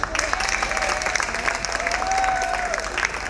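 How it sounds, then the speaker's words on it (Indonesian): Audience at a humanitarian forum claps for Caritas, a brisk, fairly close round of applause with scattered individual claps standing out and faint crowd murmur underneath. "Tapi sebelumnya tepuk tangan dulu dong buat Caritas."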